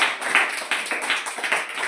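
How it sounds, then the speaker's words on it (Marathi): A group of people clapping together after a game, a continuous burst of close, fairly loud applause with quick overlapping claps throughout. "टाळ्या वाजवा सगळ्यांनी."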